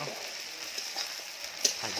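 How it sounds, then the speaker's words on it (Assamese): Spice masala for a local chicken curry frying in a pan, a continuous close sizzle with light stirring scrapes. "গোটেইখিনি মছলা ভাজি লোৱাৰ পাছত দি দিলোঁ জিৰা পাউডাৰ।"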